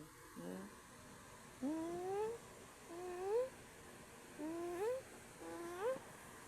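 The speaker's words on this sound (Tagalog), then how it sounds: "Ang lambing-lambing naman na nga ng aking pusa" A pet cat, scalded by boiling cooking oil, meows affectionately up close: five soft, rising meows spaced about a second apart, quiet and clear with no talking.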